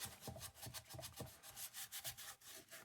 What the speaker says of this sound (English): I have here a very weathered Scotch-Brite scrubby or nylon